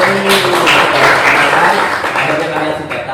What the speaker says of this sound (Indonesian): terima kasih atas tepuk tangan untuk kita semuanya